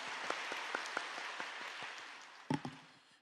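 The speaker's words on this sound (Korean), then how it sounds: "우리 은혜의 말씀 주신 목사님께 다시 한번 감사의 박수 드리겠습니다." A church congregation at a Yoido Full Gospel Church dawn service applauds the pastor: a steady, even wash of clapping from a large room, with a few sharper claps near the end before it fades.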